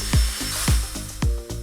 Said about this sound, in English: and then drilled in some pilot holes.